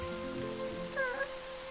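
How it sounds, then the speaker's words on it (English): Rain falling steadily on a surface in a children's animated cartoon, a soft continuous patter with a few brief tonal sounds over it. "but it's raining."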